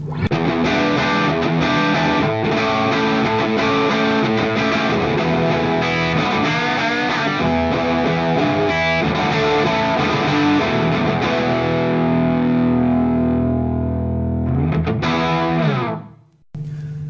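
A loud, continuous distorted electric guitar through a vintage Marshall amp with two channels blended, thick and layered with a chorus-like shimmer, playing alone before cutting off abruptly near the end.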